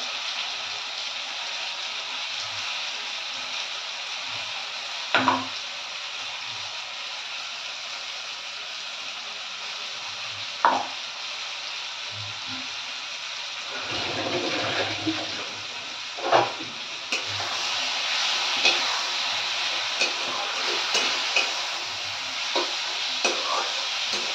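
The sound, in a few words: spice paste added to pan and frying for fish kalia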